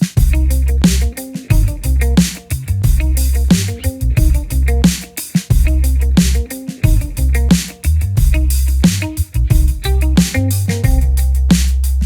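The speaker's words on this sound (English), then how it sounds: "a second guitar on the back that is playing a single note line" Guitar music with a dense, steady band playing; a second guitar plays a single-note melodic line over a sustained low accompaniment, loud and continuous.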